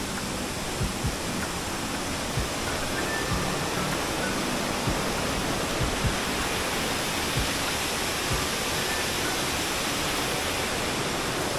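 Rushing water at Kalisang Falls on Tablas Island, Romblon, pours continuously in a broad, steady roar, like a nearby waterfall, with no voices heard.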